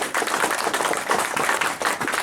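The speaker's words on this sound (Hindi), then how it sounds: "मैं चाहता हूं कि एक बार त्रिलोक चंद छाड़ा जी के लिए जबरदस्त ताली हो।" An audience breaks into sustained, dense applause for Trilok Chand Chhada at an RCM gathering. The clapping is steady and fairly loud throughout, with a brief dip near the start.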